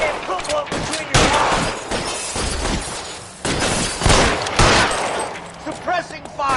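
Loud, close gunfire crackles through an L.A. Noire shootout in irregular bursts and single reports, some echoing, with no talk.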